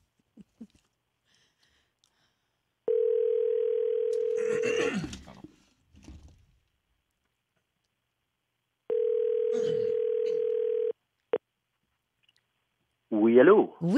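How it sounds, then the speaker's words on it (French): A telephone rings twice, each ring a long steady electronic tone with a gap between them, followed by a click as the call is picked up and a voice begins to answer. "Luc, ça devrait sonner."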